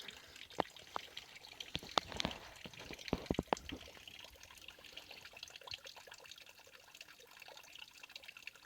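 Water trickling and splashing at a stream source while a hiker fills a backpacking water filter system on the Appalachian Trail, faint, with scattered irregular drips and gurgles that thin out toward the end.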